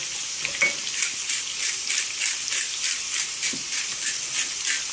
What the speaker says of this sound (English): I keep mixing it around a bit, let those flavors infuse into the oil, to the garlic